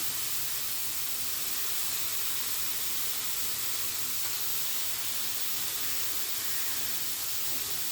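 Tomatoes sautéing in a pan for a home-style Tamil beans poriyal, a steady, even hiss of sizzling that holds close and unbroken throughout with no voices over it.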